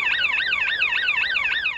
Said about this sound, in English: Secondary is an audio warning for the road workers to say you've got potentially 3 seconds now